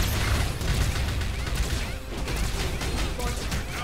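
Dense, continuous gunfire from the game Hyper Universe, a loud crackling barrage of rapid overlapping shots that runs without a break from start to finish.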